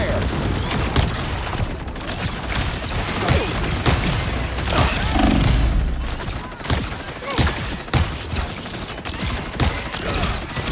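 Rockets firing and explosions in the Marvel Rivals video game, with rapid launches and booming blasts in dense clusters over busy battle noise.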